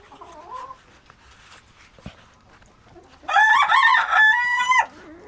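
On a farm, hens cluck softly for a few seconds before a rooster lets out a loud, close crow that dominates the scene.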